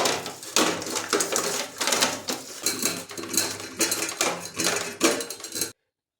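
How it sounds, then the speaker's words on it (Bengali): Katla fish pieces and potatoes are worked together by hand with salt and turmeric for an Assam-style katla kaliya. The result is close, continuous squelching and clattering against a bowl, with an uneven rhythm that stops abruptly. "সব মাখাবো হাত দিয়ে সুন্দরভাবে মেখে নেবো"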